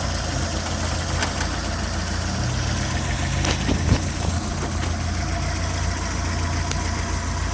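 A four-cylinder inline mid-engine car idles steadily nearby with the hood closed, giving a continuous low rumble with a few faint clicks and no talking.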